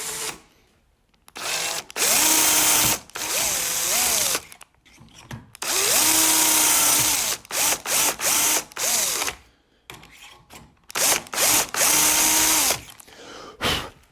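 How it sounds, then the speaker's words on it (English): A power drill bores bolt clearance holes through a mortise-and-tenon jig in repeated loud bursts, each whining up to speed and winding down, separated by short quiet gaps. "you're going to go ahead and drill the clearance holes for the bolts"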